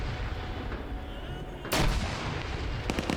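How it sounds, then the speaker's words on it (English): A grenade blast in a competitive video game match: one sharp, loud explosion crack near the middle, followed by a few quick gunshot-like pops over a noisy game background. "but a perfect grenade throw on Clown!"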